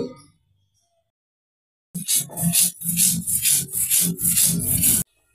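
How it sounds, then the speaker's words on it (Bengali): Black cumin seeds are ground by hand on a grinding stone, heard as close, loud rhythmic rubbing strokes for about three seconds after a stretch of silence, with no talk. "কালো জিরাটা বেটে নেব এখন।"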